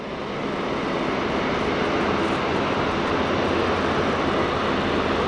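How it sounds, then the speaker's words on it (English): A Qantas Link plane taking off at Sydney Airport, heard as a steady, loud, broadband engine roar that swells in over the first half-second and then holds evenly with no talking. "And a Qantas Link taking off behind it."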